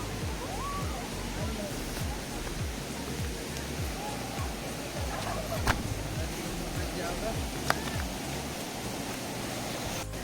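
Godhas waterfall in Nuapada, Odisha, heard from the top as a steady, loud rush of falling water with a broad, constant roar and a few faint clicks on top.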